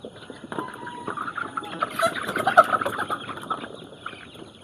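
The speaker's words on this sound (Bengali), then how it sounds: "একটু মুরগিগুলি উঠিয়ে দিই" Broiler chickens in a poultry shed cluck and squawk as they are stirred up, a busy chorus of many birds that swells into sharp louder calls, then settles.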